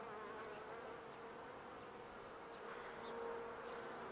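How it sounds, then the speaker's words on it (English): A dense, steady hum of many bees buzzing close by on a hive frame in early spring, a continuous droning swarm with no voices. "It's full of bees."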